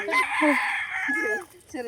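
Chickens, including a rooster, cluck and crow close by in a farmyard. One long crow runs through most of the stretch and ends with a few short clucks.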